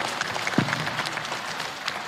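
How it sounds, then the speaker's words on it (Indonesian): Audience applause at a provincial quiz competition final, a steady patter of many hands clapping together, moderately loud and sustained across the whole stretch, with no talk over it. "kita berikan tepuk tangan terlebih dahulu"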